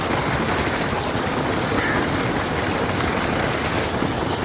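Water gushes steadily from the pipe of a solar-powered tube well on a Pakistani farm, a loud continuous rushing spray close by, unbroken throughout with no talk over it.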